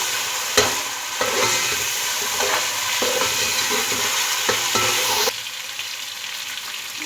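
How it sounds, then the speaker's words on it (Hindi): Beef sizzles steadily as it fries with whole garam masala in a pot, a constant crackling hiss broken by repeated scraping stirs and a few sharp knocks of the spoon, close and loud with no talking. "अब गोश्त को फ्राई कर लूँगी। साथ ही इसमें जो है साबुत गरम मसाला ये ऐड कर दूँगी।"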